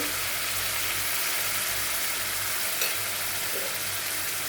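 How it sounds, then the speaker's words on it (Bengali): Onion and tomato paste sizzling in a pan with turmeric for a doi kochu dish; a continuous close frying hiss with faint stirring underneath, no voices. "ছোট্ট একটা পেঁয়াজ আর আর্ধেকটা টমেটো এটাকে আগে আগে অল্প ভেজে নেব আর একটু হলুদ দিয়ে দেব"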